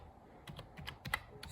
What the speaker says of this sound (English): And we're gonna be typing, let's just say.